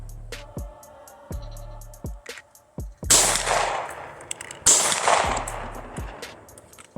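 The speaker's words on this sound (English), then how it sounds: "let's see if I can make the impossible happen and hit 200 yards with a Glock" Two sharp Glock pistol shots ring out at an outdoor range, aimed at a 200-yard target, loud and close with a brief echoing tail after each, set among a steady pattern of faint ticking clicks.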